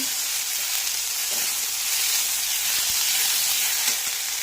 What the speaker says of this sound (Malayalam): ഉള്ളി വഴന്നിട്ടുണ്ട് അതിലേക്ക് പച്ചമുളകും ഇഞ്ചിയും വെളുത്തുള്ളിയും ഇട്ട് കൊടുത്ത് നന്നായി വഴുത്തുകയാണ്